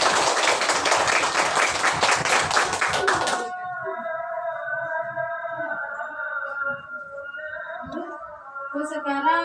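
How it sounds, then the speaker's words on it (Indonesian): A class of students at an Islamic boarding school claps together in a quick, dense burst for about three seconds, then stops and quiet voices follow. "Tepuk tangan buat"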